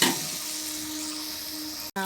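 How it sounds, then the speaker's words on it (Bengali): Water poured into a pot of sizzling mutton curry with jackfruit, a steady bright hiss of frying with a faint sustained tone and a brief cut near the end. "এবার আমি মশলার ডিব্বেটা ধুয়ে একটু জল দিয়ে দিচ্ছি"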